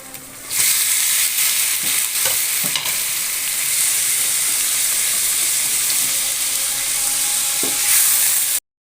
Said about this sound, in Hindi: तो अब मैं इसमें कीमा डाल दूँगी।